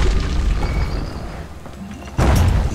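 A hand grenade explodes in the video game Bastion, a loud, low rumbling boom that decays and then hits again with a sudden, sharp, heavy burst near the end.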